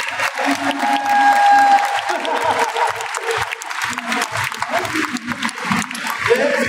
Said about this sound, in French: Je vous demande d'applaudir Samir Bachar